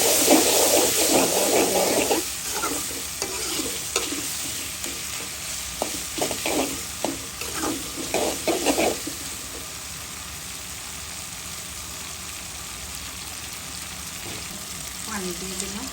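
Ginger and garlic paste frying in oil in a pan with tomato, a loud sizzle at first, then a series of stirring scrapes, then a quieter simmering hiss.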